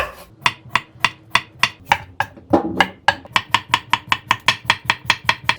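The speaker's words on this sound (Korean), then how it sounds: "이 오이는 되도록이면 얇게 얇게 얇게 썰어주세요" A knife thinly slices a whole cucumber on a board for a quick Korean cucumber salad, making a rapid, even run of crisp chopping strikes up close, with a brief scraping pause midway.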